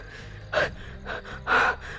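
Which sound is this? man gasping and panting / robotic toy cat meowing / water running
man gasping and panting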